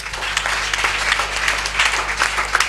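A church congregation applauding the Lord during a Sunday service, steady sustained clapping from many hands filling the room, with a faint voice beneath.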